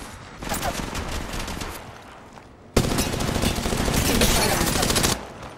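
Rapid automatic gunfire in Apex Legends Mobile rattles in dense bursts, pausing briefly before a louder, sustained volley that cuts off near the end.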